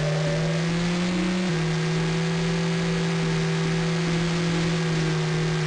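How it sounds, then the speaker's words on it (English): A car engine in the racing game Screamer 2 drones steadily at high revs, its tone dropping in a single shift partway through and then holding, loud and continuous with no talk. "now you could just notice the shift in engine tone"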